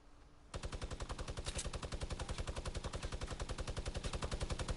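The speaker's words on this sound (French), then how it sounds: "Qui tire là?" Rapid automatic gunfire in a battle royale video game, a long unbroken burst of evenly spaced shots starting abruptly after a brief quiet moment, loud and close with no talk over it.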